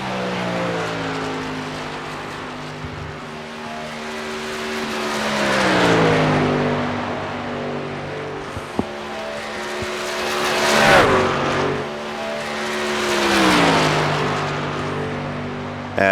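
Race car engine in iRacing at Charlotte pulls out of the pits, its loud droning note climbing steadily through gear changes with rising and falling pitch sweeps over about sixteen seconds.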